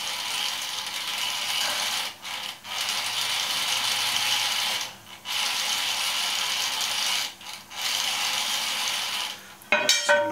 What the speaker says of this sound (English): That rubbing noise you can hear is the segmented belt that this lathe uses.